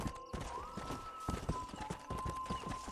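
Hooves of a saddleless horse gallop in a fast, steady clip-clop rhythm in Red Dead Redemption, close and loud over a sustained musical tone and outdoor game ambience.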